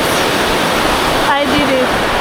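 Dunn's River Falls in Jamaica roars as a constant, dense broadband rush of falling water, close and loud throughout, with a brief voice rising faintly above the torrent.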